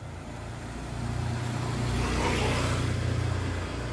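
Traffic of cars and motorcycles passes on a road with a steady engine drone that swells as a vehicle goes by close, then eases slightly.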